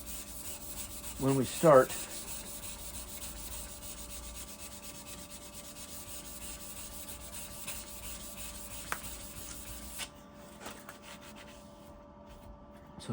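A steel knife blade for a santoku kitchen knife is rubbed by hand with 220 grit sandpaper, giving a continuous, close scratchy rasping that runs steadily, with a brief spoken phrase near the start and the strokes thinning toward the end.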